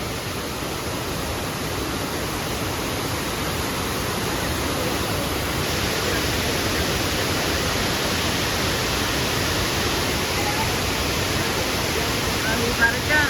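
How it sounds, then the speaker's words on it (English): A waterfall at Mount Shasta roars as a steady broadband wash of falling water, continuous and close, with no breaks in its level from start to finish. "Look at the waterfall, such a cutie."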